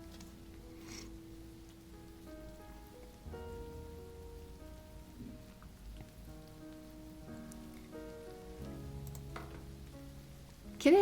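Soft, steady rain falls in the painting game Behind The Frame, a faint patter under gentle piano-like music with a brief louder sound at the very end.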